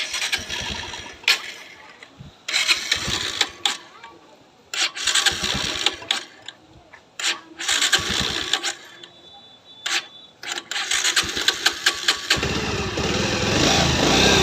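A Bajaj Pulsar 150 BS6 motorcycle engine, low on petrol, cranks and sputters repeatedly in short bursts, failing to catch, then finally starts and runs with a steady rumble.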